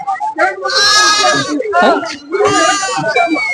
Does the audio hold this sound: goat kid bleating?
yes